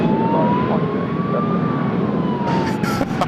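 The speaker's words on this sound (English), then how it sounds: "I just heard a siren" An emergency siren wails loudly and close by near Sydney Airport, its pitch slowly rising and falling over steady traffic rumble, with no talking.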